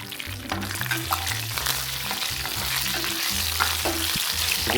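Oil crackles and sizzles steadily as onions fry, with a low background tune playing underneath throughout.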